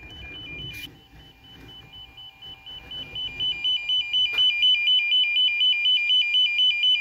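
A budget Ethernet RJ45 network cable tester probe gives a steady train of electronic beeps, rising in loudness as it nears the cable, with a brief sharp click partway through and no talking.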